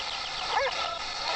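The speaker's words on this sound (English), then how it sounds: "Oh, was a dog back! That was a dog." A dog barks once, faint and distant, a brief yelp in the middle of steady outdoor hiss on a hillside at dawn.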